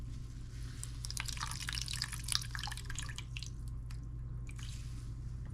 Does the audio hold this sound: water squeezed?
yes